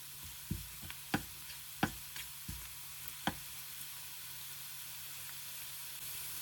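Cinnamon pieces and chopped garlic fry in oil with a soft, steady sizzle and hiss, broken by a handful of sharp clicks from stirring against the pan, fairly quiet and close.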